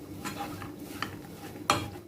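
Broccoli thoran stirred in a pan, with a spoon scraping and clinking against the metal and a sharper clank near the end as a lid goes on. The sounds are close and moderately loud, with no voices.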